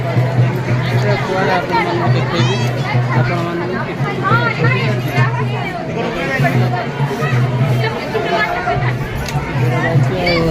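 Dense crowd chatter fills the air at a Mahashivratri night vigil in Pune, a steady loud hubbub of many voices close around, with a nearby speaker talking over it.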